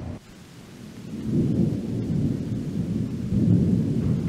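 Rain pours during an open-air city sightseeing tour in Johannesburg, South Africa: a steady, close, rumbling wash of drops and wind noise that swells louder around the middle and again near the end, with no talking.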